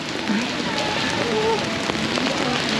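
Steady rain falls on a busy nightlife street in Susukino, Sapporo, as a constant close hiss with faint voices in the background.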